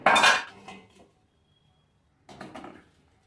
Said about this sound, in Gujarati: તો આપણે મોલ્ડ આની અંદર રાખી દેવાના।